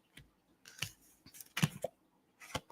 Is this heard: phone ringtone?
no